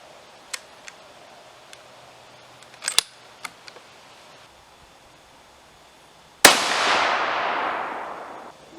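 A single sharp, loud rifle report from a Howa rifle firing 68gn Hornady BTHP rounds, with a long decaying echo tail after it and a few faint clicks and handling ticks beforehand.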